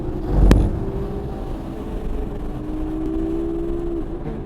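Porsche GT3 RS driven hard on a racetrack, its engine a steady sustained drone with a rising tone, a brief loud rumble near the start and no talk.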